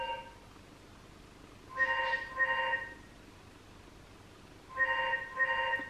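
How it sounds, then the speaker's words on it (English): A house phone rings twice, each ring a pair of quick electronic trills with a pause between them, over a quiet room hum. "The phone always interrupts me."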